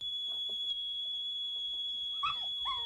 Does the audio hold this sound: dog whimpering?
yes